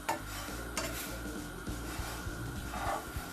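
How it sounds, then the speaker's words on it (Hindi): A spoon stirs fennel seeds roasting in a pan, giving a soft, steady scraping and gentle clinks against the metal with a faint sizzle underneath, close and quiet with no talking. "इसको आपने 2 मिनट बस इसी तरह चम्मच हिलाते रहना।"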